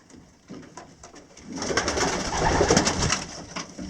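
Racing pigeons cooing inside their loft, several birds murmuring together near the microphone, growing louder and busier after a quieter start, with wing and shuffling noises mixed in.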